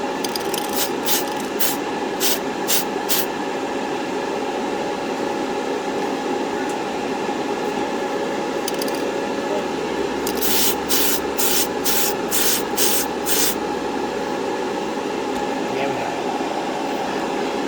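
An aerosol can sprays paint under a 1968 AMT Corvair model car in a steady hiss, broken by several rapid bursts of clicking partway through.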